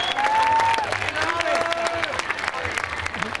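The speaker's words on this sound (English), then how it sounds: "So please give Lori an extra round of applause." Crowd applause at the 2013 Calaveras County Fair ribbon cutting, a short burst of clapping outdoors with a speaker's voice over it, fading toward the end.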